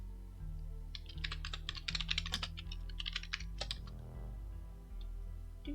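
Keys clatter in quick, uneven bursts on a computer keyboard, close and clear over a steady low hum of background music, with brief pauses between runs of typing.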